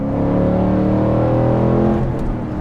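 A Ford Mustang GT fitted with an aftermarket exhaust accelerates hard, its loud, deep engine roar sustained close by and easing off slightly at the end, with no voices.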